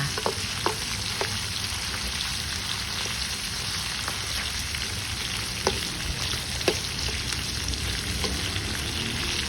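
Sun-dried beef frying in hot oil makes a dense, continuous sizzle with scattered pops and crackles, steady and close throughout.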